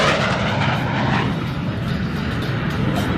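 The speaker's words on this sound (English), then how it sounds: "And from the right, Captain Tofu Reyes can demonstrate a high-speed pass in the Harrier, coming in at about 500 knots" An AV-8B Harrier II+ jet roars loud and steady in a high-speed pass at about 500 knots during an air show demonstration at MCAS Miramar.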